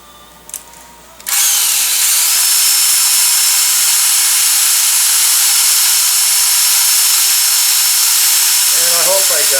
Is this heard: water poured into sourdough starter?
no